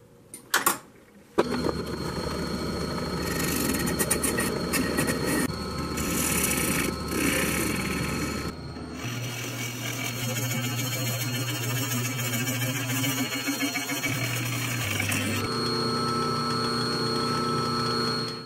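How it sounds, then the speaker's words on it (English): A metal lathe runs while facing off and boring a piece of firewood, a loud steady mechanical whine and hum with shifting tones as cuts change, preceded by a brief clatter as the machine starts. "we're actually going to take this thing over to the metal lathe to face it off and bore it"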